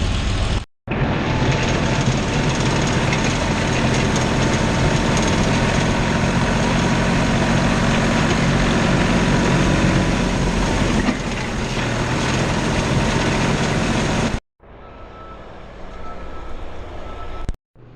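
John Deere 4020 tractor engine idling while warming up after a cold start in snow, a loud steady diesel drone close by, running continuously before cutting briefly and resuming more quietly.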